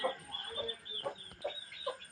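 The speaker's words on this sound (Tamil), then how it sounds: "சேவல் நல்லா வளர்ந்துருச்சு" A rooster and chickens kept on a small farm cluck and call in short bursts, several separate vocalizations spaced through the moment, fairly close and moderately loud.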